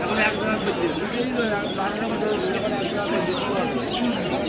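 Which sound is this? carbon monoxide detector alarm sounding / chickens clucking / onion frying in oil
chickens clucking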